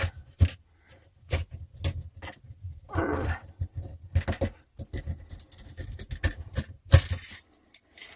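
A small hand reamer is worked into a kitchen sink drain pipe, producing a close series of irregular scraping rasps and knocks with gaps of quiet between strokes.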